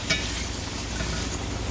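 Food sizzles steadily in a hot pan, a constant crackling hiss close up with no voices.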